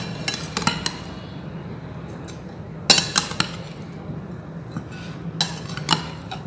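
A utensil clinks against a pot while ground spice powder, pounded in a mortar and pestle, is mixed into mutton for a Darbari mutton curry. Short bursts of sharp metallic clinks come in clusters, with quiet pauses between them.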